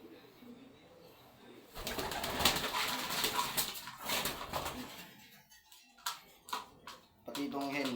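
Pigeons in a loft give soft, low cooing with occasional wing flaps, heard close by. People talk over much of it.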